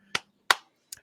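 Three sharp hand claps, spaced unevenly and close to the microphone, each a crisp isolated crack with silence between.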